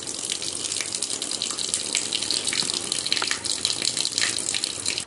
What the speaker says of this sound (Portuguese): Agora é colocar água e deixar de molho.